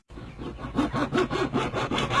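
Hand saw cutting through material for a homemade chicken feeder, about nine steady rhythmic back-and-forth strokes, close and fairly loud with no talking.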